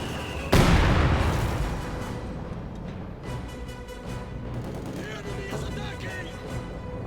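Mortar shells burst in Company of Heroes 2, one sharp loud blast followed by rolling rumble and scattered distant battle thuds and crackle.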